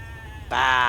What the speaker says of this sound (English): Bah, my sheep.